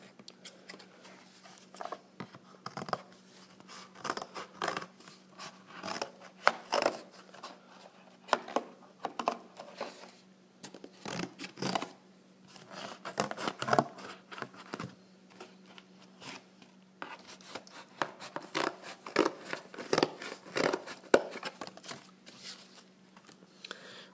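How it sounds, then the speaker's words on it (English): Repeated snipping and crunching of scissors cutting through cardboard, in irregular bursts with short pauses, close up. "hopefully these scissors will do the job"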